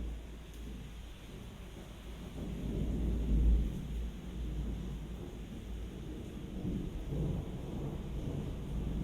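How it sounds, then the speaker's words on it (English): Low, rolling thunder of a midnight storm in Taxco, Mexico rumbles steadily, swelling in the middle, with a faint hiss of rain or wind beneath. "it sounded like a fake thunderstorm effect,"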